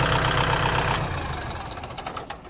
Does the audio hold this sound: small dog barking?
no